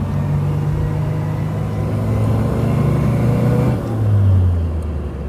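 Vintage Morris Minor 1000 car engine running steadily while driving, a low continuous hum with a drop in pitch near the end, close and loud, no talk.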